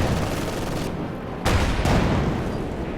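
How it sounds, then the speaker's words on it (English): Dense, continuous automatic fire from an MG42 machine gun in a World War II video game battle, steady bursts running throughout with a sharper surge midway, close and loud with no talking. "Rifleman got suppressed by the MG42 there, forced to retreat once again."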